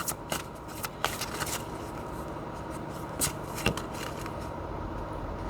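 Tarot cards handled and drawn from a deck: faint papery rustles and a few sharp slides and flicks over a low steady background, quiet and close.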